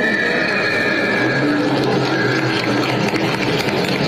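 A horse whinnying in a long, drawn-out call with a wavering pitch, over a continuous noisy background, loud and close, with no speech.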